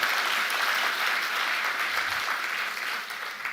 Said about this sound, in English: Let's have another round of applause for His Excellencies.